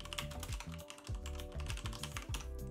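Fingers type quickly on a computer keyboard, producing a fast, uneven run of close, quiet key clicks with nothing else in the background.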